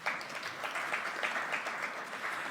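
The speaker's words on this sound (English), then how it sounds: "Another round of applause to our governor," An audience at the Bank of Namibia's 30th anniversary celebration applauds the governor with a steady, moderately distant patter of many hands clapping, heard on its own.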